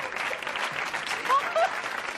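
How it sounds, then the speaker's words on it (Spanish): Studio audience applause during a television interview with Montserrat Caballé, a steady moderate patter of clapping lasting about two seconds, with a voice briefly sounding over it. "¡Un aplauso a este ángel!"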